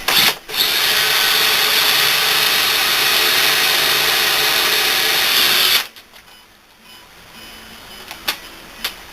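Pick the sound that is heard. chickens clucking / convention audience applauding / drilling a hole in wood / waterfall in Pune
drilling a hole in wood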